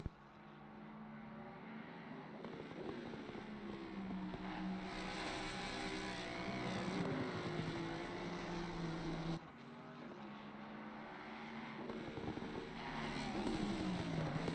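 Race cars circle a sim-racing Imola track during a 12-hour endurance event, giving a steady, continuous engine drone that holds loud throughout with shifting pitch, a short dip partway through, and no talking.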